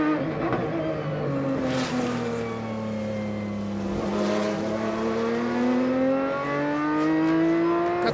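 An ALMS sports racing car at Road America howls through the gears, its engine pitch climbing and dropping with each shift, a steady rising whine heard from a distance, sustained and prominent.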